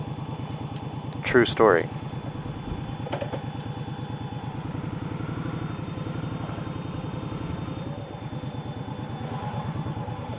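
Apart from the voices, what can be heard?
motorcycle engine idling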